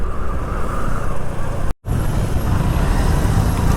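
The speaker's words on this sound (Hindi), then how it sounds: "ट्रैफिक जाम भाई साहब" Road traffic jam on the way toward ISBT in Dehradun, heard from a scooter: a steady, loud wash of car, truck and bus engines and road noise, broken by one brief dropout midway.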